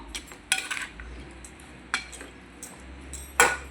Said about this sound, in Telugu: ఒకసారి తిప్పుదాము